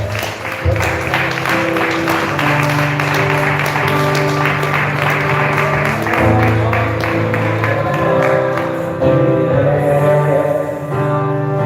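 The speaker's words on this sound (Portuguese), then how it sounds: "Vamos aplaudir o nosso Senhor bem forte." Church congregation clapping loudly together in praise during a worship service, a steady dense applause sustained across the whole stretch, with music tones ringing underneath.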